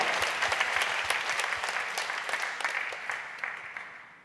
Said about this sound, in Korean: 우리를 사랑으로 안으시는 주님께 감사와 영광의 박수 올려드리시겠습니다.